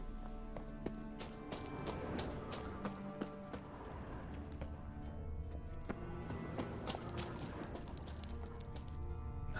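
A horse galloping in the video game Witcher 3, rapid hoofbeats under a busy, fairly faint game soundscape with steady background layers.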